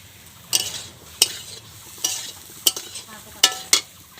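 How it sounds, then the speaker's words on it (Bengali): Eggplant is stirred in a pan for a light fry, giving a few sharp scraping and clattering strokes of a spatula roughly every second over a low, quiet background sizzle, with no talking. "এখন নাড়াচাড়া করে বেগুনটাকে হালকাভাবে ভেজে নেব।"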